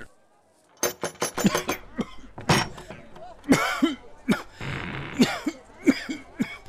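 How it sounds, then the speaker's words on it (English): Repeated harsh coughs come in uneven bursts, some close together, with a few short throat sounds between them. "You've been coughing like this for so many days now."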